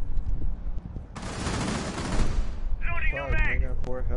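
Sustained burst of gunfire from a first-person shooter video game, loud and dense for about a second and a half, followed by brief in-game voice chatter and background game noise.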